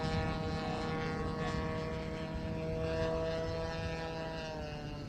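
Radio-controlled warbird model aircraft with a propeller engine taxiing at an RC flying event, a steady droning whine with strong harmonic tones holding fairly close and even throughout, with no talk over it.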